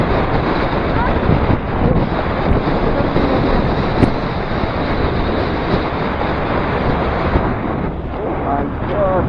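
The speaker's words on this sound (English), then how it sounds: "It's windy, rainy, and cold." Outdoors in cold, rainy London, strong wind buffets the microphone with a continuous loud roar that masks most other detail.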